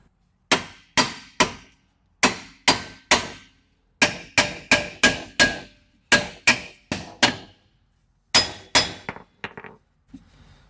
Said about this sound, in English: Let me get a hammer. I'm gonna have to whoop on it right there.